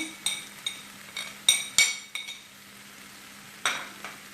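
Dry spices being stirred into chicken in a pan over a low flame, with light metallic clinks of a spoon against the pan in a few sharp taps over a faint steady hum, close and alone.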